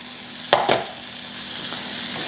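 Steady frying sizzle of cheese for a quesadilla in a hot frying pan, with a couple of brief scraping clicks near the start.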